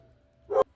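A single short dog bark, close by, after a moment of near silence.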